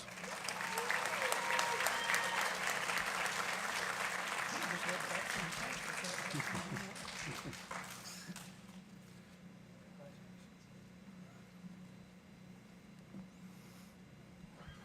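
Audience applause for award-winning students at a county school board meeting, steady clapping for about eight seconds that then fades into quiet room tone with faint voices.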